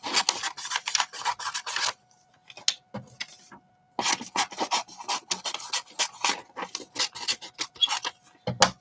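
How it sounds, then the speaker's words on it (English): Scissors snip through a glossy magazine page in quick bursts of crisp cutting strokes, pausing briefly before another run of rapid snips close by. "Snip, snip, away it goes."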